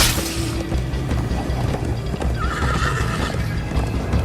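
A horse gallops and neighs in the video game Minecraft Story Mode, loud hoofbeats pounding steadily under a drawn-out whinny, with rumbling action noise layered throughout.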